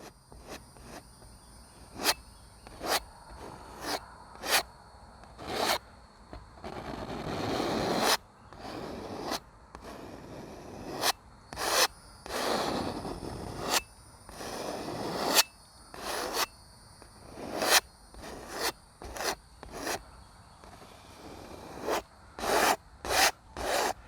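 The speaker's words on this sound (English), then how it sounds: "we're just going to scrape that right into the canvas" Palette knife scraping paint across a canvas while painting a mountain, a long run of rhythmic, close, dry rasping strokes with brief pauses between them, heard alone without any talk.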